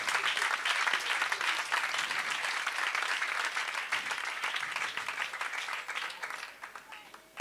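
Sustained applause from a church congregation, dense clapping from many hands, steady and fairly close, tapering off toward the end.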